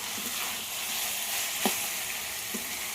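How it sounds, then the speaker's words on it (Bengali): Ginger frying in a pan for a mango chicken dish gives a steady, soft sizzle throughout, with a couple of brief stir or scrape knocks against the pan. "আদার যতক্ষণ না কাঁচা গন্ধ চলে যায় ততক্ষণ একটু কষিয়ে নেব।"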